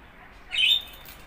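A pet bird in its cage lets out a short, shrill squawk over a low, steady background hum, with no talking.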